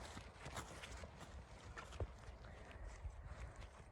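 Horses out for a walk, hooves clip-clopping faintly and irregularly over a low, rumbling outdoor background, with no talking.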